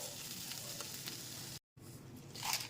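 Fried shrimp and lentils are stirred in a pan, giving a soft continuous sizzle with faint scraping, cut by a brief gap of silence before the frying sound returns slightly louder.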